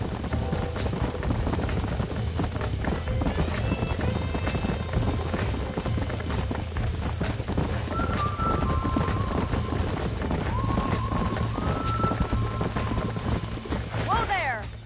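Horses gallop in Red Dead Redemption, their hooves making a rapid, continuous clip-clop that stays steady and fairly loud throughout, with a few faint tonal game sounds drifting in near the end.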